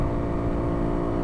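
A Kawasaki KLX300 dual-sport motorcycle engine holds a steady high-revving drone at around 7,000 RPM under full throttle up a hill, loud and continuous with no voices.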